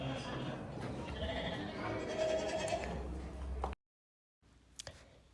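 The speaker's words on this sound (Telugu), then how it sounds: "ఇది గొర్రెలు ఉండేది పాక, కాబట్టి ఇక్కడికి రాగానే సౌండ్స్ వస్తున్నాయి" Sheep bleating in a sheep pen exhibit at the Bible Museum in the USA, a nearby bleat heard through a busy indoor background with people talking, then a brief silence and a few soft knocks.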